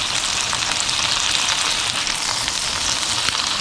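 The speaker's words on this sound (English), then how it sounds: "Few seconds just to get those all edges seared and brown just a little bit." Grass-fed filet mignon has its edges seared in a hot pan, producing a loud, continuous, even sizzle that fills the whole stretch with no pauses and no talk.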